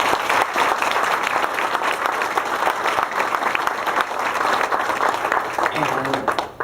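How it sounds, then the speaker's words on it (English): A banquet audience at the Olney Chamber of Commerce Banquet 2011 gives Jessica a round of applause: a thick, continuous wash of many hands clapping that holds steady and then tapers off at the very end. "please give Jessica a nice round of applause"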